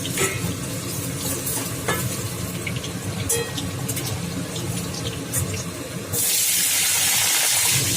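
Soybean chunks stir-fry in a pan with a steady sizzle and scraping stirs, and the hiss swells louder and brighter over the last two seconds; no one speaks.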